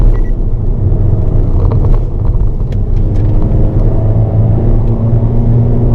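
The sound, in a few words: Car engine on a race circuit, downshifting into a corner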